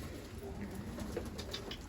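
A tumbler pigeon coos at an outdoor bird market in Istanbul, soft repeated coos over faint background bustle, heard at a low level.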